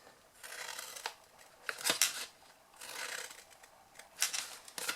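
Scissors snipping through the paper sides of a handmade gift box, several close crisp cuts in uneven bursts, each with a rustling crunch of paper, alone without talk.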